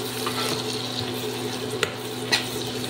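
Ginger, onion, garlic and chili sautéing in a pan, giving a steady soft sizzle under a low hum, with a couple of faint stirring clicks and no one talking.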